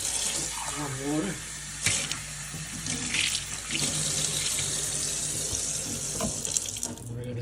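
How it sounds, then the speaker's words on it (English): A running tap fills a container with warm water for soaking moringa seeds, a steady gushing stream heard up close, with a voice speaking briefly over it. "I'm going to add a little bit of warm water."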